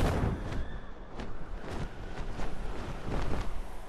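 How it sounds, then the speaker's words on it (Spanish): Several heavy, booming gunshots go off at close range, uneven bursts over a rough, rumbling noisy background. "Y disparos al lado"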